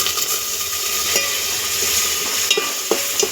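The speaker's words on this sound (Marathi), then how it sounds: "आपल्या सगळ्या मसाल्यांना तेल सुटेपर्यंत तुम्ही परतून घ्यायचे व्यवस्थित" Spices and soybeans stir-frying in oil for soybean pulao: a steady bright sizzle close up, with a few soft scrapes and taps of a spoon against the pan and no talk.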